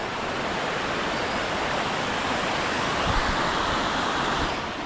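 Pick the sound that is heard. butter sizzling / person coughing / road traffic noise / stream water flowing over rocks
stream water flowing over rocks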